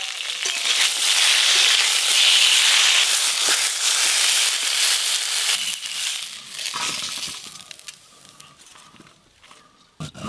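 Roasted cumin and fennel are ground in a loud, harsh electric grinder whirr that runs steadily for several seconds and then fades into scattered clatter.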